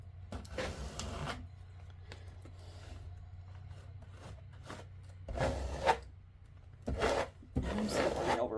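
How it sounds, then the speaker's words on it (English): A scraper drags Cloud Whip paste across a crafting surface in short rasping strokes, with a couple of quiet passes followed by several louder scrapes near the end. No one speaks. "I'm just going to scrape that on there."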